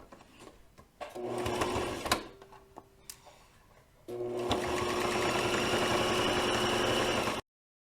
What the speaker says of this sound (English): and top stitch right there. Really close to the edge. We're just closing it.